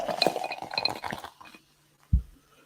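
Ice cubes clinking and rattling in a drinking glass, a quick cluster of bright chinks up close, followed by a single soft knock after a short pause.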